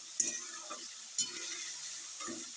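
A spatula stirs small-fish chorchori with onion frying in a pan, giving three short scraping strokes over a quiet sizzle, each with a sharp clink at its start.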